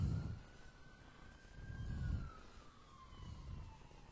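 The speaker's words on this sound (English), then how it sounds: "Just an ambulance going down the road." An ambulance siren wails from somewhere off along the road, its tone sliding steadily downward as it passes, fairly faint and heard over low rumbling background noise.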